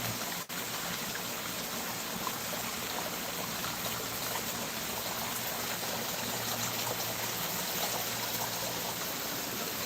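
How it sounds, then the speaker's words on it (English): Water pours steadily down over a bag of crushed biochar in a pond garden, a constant, close rushing trickle like a small stream, with no talking. "Let the water pour down over it."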